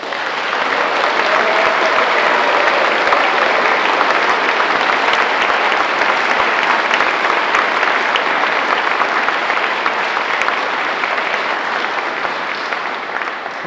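Sustained, dense applause from a large audience at a Congressional Gold Medal ceremony honoring Chinese Americans of World War II, loud and steady for about fourteen seconds with no voices over it.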